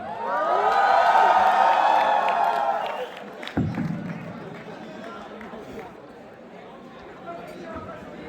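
College event crowd cheering and whooping loudly for about three seconds after a performance, then fading into a murmur of chatter with a brief thump and scattered voices.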